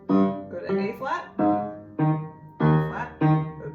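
Left-hand piano notes from the second line of the piece play as a short series of separate sustained tones, each struck and left ringing before the next, close up and clear with no talking over them.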